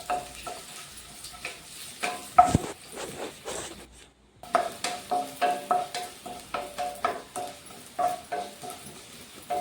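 Dried red chillies, shallots and curry leaves sizzle and fry in a pan for an Onam inji curry, with a steady crackle broken by repeated stirring scrapes and a brief pause in the middle.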